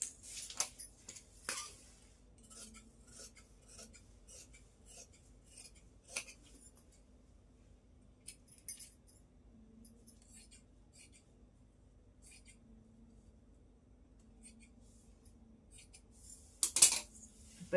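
Scissors snipping through fabric while cutting off sleeves, scattered quiet clicks and short cuts spread across a mostly hushed stretch, with a faint voice speaking softly.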